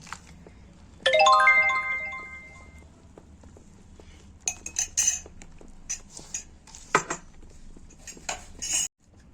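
Ammonia baking powder dissolved in warm milk is stirred into an Eid biscuit dough mixture in a bowl. A bright metallic ring opens, then a spoon clinks and scrapes against the bowl in irregular bursts, close by.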